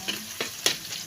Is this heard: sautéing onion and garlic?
yes